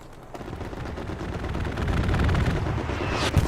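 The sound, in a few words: gunfire from an aircraft strafing run in a video game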